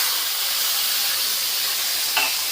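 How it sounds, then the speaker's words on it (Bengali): Chicken fat frying in hot oil gives a steady, loud, close sizzle and hiss throughout, with a faint clink near the end and no talking. "চিকেনের তেলটাকে ভেজে নেবো।"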